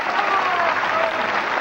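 Audience applauding at the 2000 World 9-Ball Championships, thick continuous clapping that stays loud and even throughout, mixed with faint crowd murmur.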